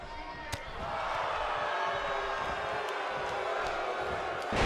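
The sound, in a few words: wrestling slam with crowd in WWE 2K18 video game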